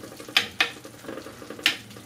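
Herbs and tomatoes being stirred in a Moroccan tajine pot, with three sharp scraping strokes over a soft, steady sizzle.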